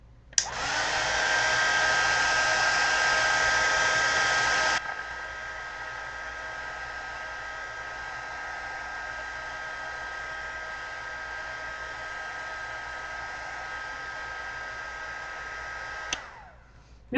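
A hair dryer runs steadily to dry paint on a handmade card, a loud whooshing drone that drops to a lower setting after a few seconds, then hums on before switching off.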